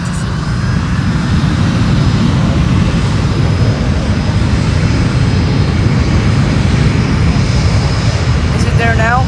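JetBlue jet airliner at Fort Lauderdale airport, a loud, steady broadband engine roar that holds without letting up throughout, with a faint tonal whine above it.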